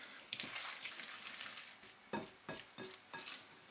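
Chopped squid with cracked pepper, thyme and salt is stirred in a hot pan. A soft sizzle runs underneath while a utensil scrapes and knocks against the pan in four or five distinct strokes near the end. No one speaks.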